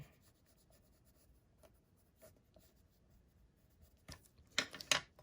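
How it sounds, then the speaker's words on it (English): A pencil is pressed hard on paper, making faint, soft scratching strokes that build to a few louder, rough rasping scrapes near the end, close up with no voices. "Pressing too hard, my pencil's snapping."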